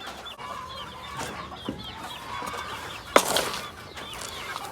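Gamefowl chickens cluck and chatter at feeding time, several birds making short repeated calls close by, with a louder squawk and flurry partway through and no talking.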